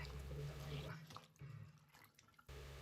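Clothes such as socks, underpants and t-shirts are hand-washed in a basin of water with Turkish soap, giving soft sloshing, dripping and splashing in uneven bursts at close range.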